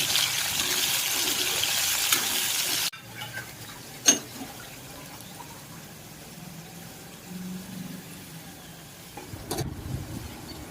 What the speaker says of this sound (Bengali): লঙ্কা গুঁড়িটা দিয়েই জল ঢেলে দেব